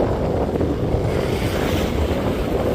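Steady, heavy sea wind roaring and buffeting the microphone, with a low rumble of open water beneath, continuous and unbroken, on the coast at Akyaka, Marmaris.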